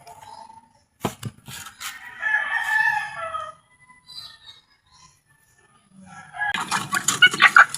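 Chickens and a rooster wait to be fed on a farm. Two loud, close rooster crows ring out between clucks and rustling, and a burst of flapping wings and squawks comes near the end.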